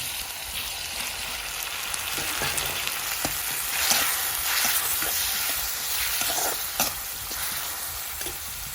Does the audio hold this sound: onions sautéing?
yes